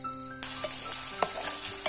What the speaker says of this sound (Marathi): असं कांदे आणि गोड तेल टाकलेलं आहे कढईमध्ये.